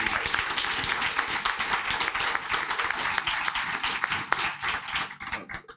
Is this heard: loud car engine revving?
no